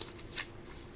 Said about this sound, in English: So now I'm going to take my scissors